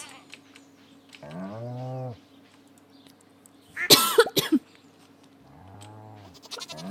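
Cows mooing on a farm in a video game, two drawn-out, fairly loud moos a few seconds apart, with a burst of other sharp animal noises between them over a low steady hum.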